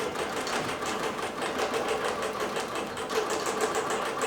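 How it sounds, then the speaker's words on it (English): A digital quilting sewing machine from Joyquilts stitches out a row at moderate speed, its needle beating in a steady, fast rhythmic chatter over a constant motor hum, close and clear with no talk. "It's going to stitch out 2 rows."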